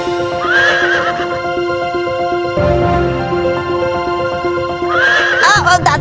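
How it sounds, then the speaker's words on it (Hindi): A horse neighs loudly twice, with whinnies near the start and end over a steady musical score, faint hoof clip-clop in the background. "तो ये अश्व आपको बैठने देंगे"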